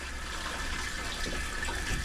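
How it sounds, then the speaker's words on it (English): The toilet in a Coachmen Nova RV, being de-winterized, is flushed: close, continuous rushing and gushing water, steady throughout with no voices. "let's de-winterize our toilet. So I'm just going to flush it."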